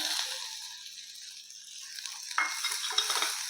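Chopped onion, green chillies and black mustard seeds lightly frying in a pan, a soft hissing sizzle that fades slightly then swells again with a few sharper crackles and stirring scrapes, close and quiet.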